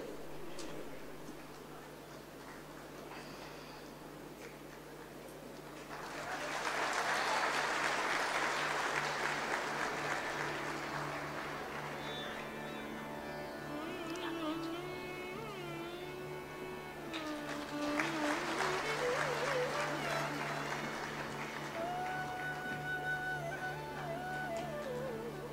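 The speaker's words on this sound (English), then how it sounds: "Please give a huge round of applause." Two rounds of distant applause swell and fade in a quiet hall at a university Foundation Day celebration, with faint steady ticking and a soft electronic tone in the background.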